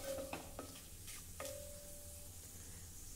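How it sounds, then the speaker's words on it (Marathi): Cashew pieces sizzle and fry in hot oil in a pan, a steady close crackling hiss with a few sharp clinks of a spoon stirring, no voices. "8 ते 10 काजूचे तुकडे, थोडंसं परतवून घेऊ म्हणजे काजू छान तळले जातील"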